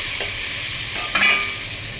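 Spinach frying in a pan for a home-cooked holiday dish, a close steady sizzle with a few brief scraping stirs of the pan, no voices.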